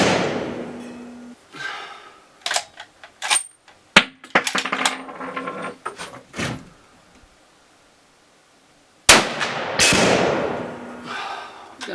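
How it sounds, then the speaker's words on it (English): A Winchester Model 70 rifle in .300 WSM fires shots at a steel plate, heard as sharp cracks with scattered metallic knocks and thuds between them and a loud final report with a ringing tail. "So I'm going to put a couple of bullets up there, and we'll see how it goes."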